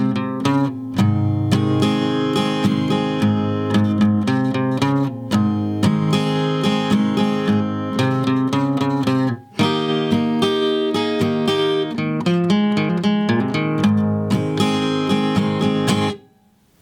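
Acoustic guitar plays the strummed intro, steady rhythmic chords ringing close and clear for about sixteen seconds, alone without voices, with one brief pause partway through.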